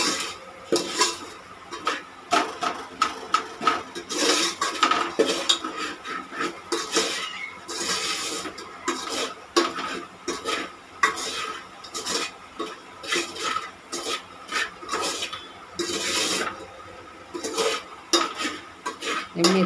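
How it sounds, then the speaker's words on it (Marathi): Salt being stirred into a spicy kat amti curry in a metal pot: loud, close clanks and scrapes of a spoon in quick, uneven bursts, with a faint sizzle and no voice. "आता आपण हे हलवून घेऊया ह्याच्यात."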